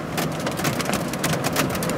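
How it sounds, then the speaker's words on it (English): Marble-sized hail falling during a storm, heard as a dense, steady roar of hard rattling impacts on a surface, loud and continuous without talk. "The hail is about, oh, it's about marble size, a little bigger."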